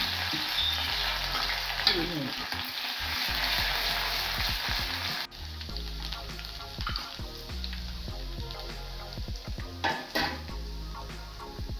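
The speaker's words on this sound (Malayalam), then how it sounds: "കടുക് പൊട്ടിയിട്ടുണ്ടെങ്കിൽ നമുക്കതിലേക്ക് ഉഴുന്ന് പരിപ്പ്" Mustard seeds and urad dal fry in hot oil while curd rice is prepared at home, a continuous close sizzle with crackling pops and occasional stirring clinks of a spoon against the pan.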